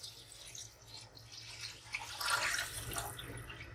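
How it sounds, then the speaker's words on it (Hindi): Water is poured in a steady, moderate stream for a few seconds. Four to five glasses go into a pot of browned goat meat for Kabuli pulao, and no one talks over it. "4 से 5 गिलास पानी लिया है मैंने इसमें और इसको ऐड कर दिया है।"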